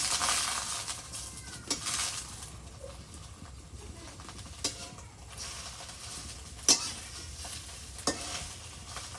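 Eggs frying in oil in a home kitchen pan, a steady soft sizzle with occasional sharp spatters and utensil clicks, close and fairly faint, with no speech over it.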